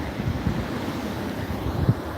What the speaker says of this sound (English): salt water from the ocean being smashed on the rocks